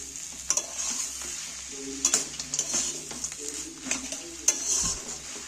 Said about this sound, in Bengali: ধনে পাতাটা ভালো করে মিক্সড করে নিচ্ছি